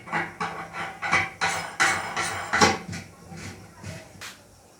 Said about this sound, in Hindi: तो अभी इसके साथ ये वाला जो स्क्रू है इसको हम इसके ऊपर जो है वो टाइट कर देते हैं